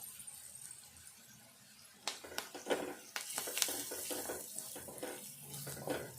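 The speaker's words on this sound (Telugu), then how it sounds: "ఈ ఉల్లిపాయ మంచిగా వేగాలి, దోరగా మంచిగా వేగాలి." Chopped onions frying in a pan for a taro curry, giving a steady broadband sizzle with clattering bursts from stirring partway through, close and moderately loud with no talking.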